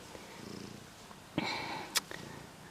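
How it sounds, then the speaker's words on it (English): A stray cat purring close by, a soft rhythmic rumble at first, then interrupted by a few brief louder rustles and bumps. "now we have a cat."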